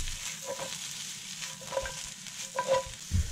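Onions and mushrooms fry in a pan with a soft, steady sizzle, broken by a few quiet scrapes and taps of stirring toward the end.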